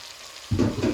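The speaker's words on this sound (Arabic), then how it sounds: "رح أحط قطع الدجاج في الطنجرة" Skinless chicken pieces drop into a hot pot with chopped tomatoes, and a sudden loud sizzle bursts up halfway through, then keeps crackling close and strong.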